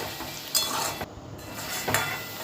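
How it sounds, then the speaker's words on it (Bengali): Sizzling of fried potatoes being lifted slowly out of hot oil for a Bengali kasundi aloo dum, a steady close crackle with a few soft scrapes and clinks of a utensil against the pan. "এবার আস্তে আস্তে এই আলুগুলোকে তুলে নেব।"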